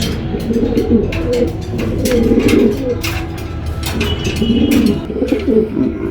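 Pigeons of several kinds, including black beauty, homer and local birds, coo in overlapping low throaty phrases at a bird market, with continuous crowd murmur and scattered sharp noises around them.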